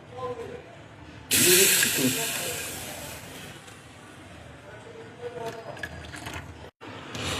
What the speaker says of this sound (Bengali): উতলে পড়ে গেল আমার সুজি